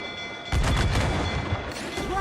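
Ship cannons firing in Assassin's Creed 4, a loud rumbling salvo of overlapping booms lasting about a second, with shouting voices alongside.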